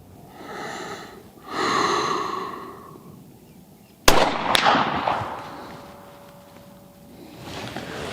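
A single muzzleloader rifle shot fired at a target outdoors, a sharp loud crack followed by a rolling decay, preceded by breathy noises.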